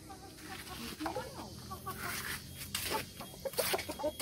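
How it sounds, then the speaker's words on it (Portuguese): Free-roaming chickens cluck and squawk in short bursts around a rural home, fairly close and mixed with steady background noise and occasional voices. "Minhas galinhas tá solta."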